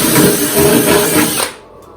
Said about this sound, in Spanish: Ahora ya podríamos venir y taladrar arriba.